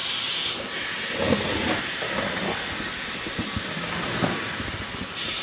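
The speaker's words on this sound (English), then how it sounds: "My tire changer leaks a little bit. I think there's a bad valve or something." Air hissing steadily from a leaking valve on a tire changer in a farm workshop, a continuous close broadband hiss running through the whole stretch with small irregular clicks and knocks underneath.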